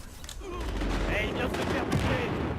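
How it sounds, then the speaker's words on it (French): Gunfire crackles in a Battlefield Hardline multiplayer match, rapid overlapping shots and bursts running continuously at fairly close range. "Je file des bastos."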